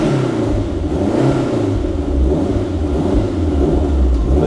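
A freshly rebuilt Lancia Delta, still in its running-in period and with a rough idle, runs with a loud, close engine rumble that swells as it revs, with no voices over it.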